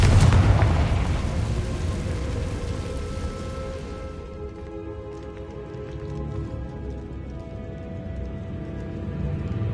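Spell explosions from Bombarda and Confringo in a Harry Potter video game open with a loud, close blast that fades over several seconds into a crackling, rain-like rumble.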